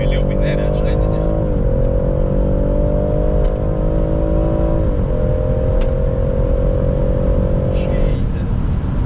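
BMW M140i Shadow Edition accelerating hard, its engine note a steady loud drone that rises in pitch, drops at each gear change and climbs again, heard from inside the car.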